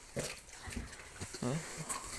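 Piglets grunt and snuffle close by in short, irregular bursts, with a few higher squeals mixed in.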